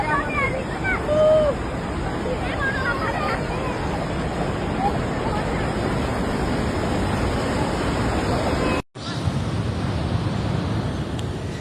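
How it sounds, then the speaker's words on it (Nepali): The flooded Trishuli river at Dhunge, Nuwakot rushes in a loud, constant roar, with a brief dropout late in the clip and a few voices faintly heard over the water. "आज आएको रसुवा हुँदै आएको यो त्रिशुली खोला बढिसकेपछि बाढीले"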